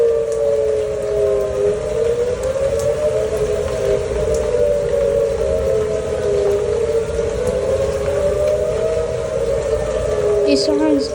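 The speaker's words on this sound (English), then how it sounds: "These sirens have been going off for like a few minutes now, and they're louder than usual test days." Tornado warning sirens in Plano wail steadily in the rain, a loud sustained tone slowly rising and falling, with rain pattering throughout.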